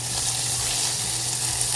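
Moringa leaves go into hot oil for a tempering, giving a steady, close, bright sizzle that runs unbroken with no voices over it.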